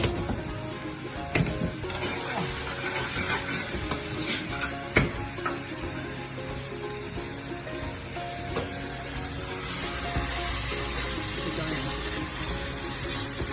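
Tomato paste sizzling and frying in a pan while being stirred, a steady crackling hiss with occasional scraping knocks, continuous and close.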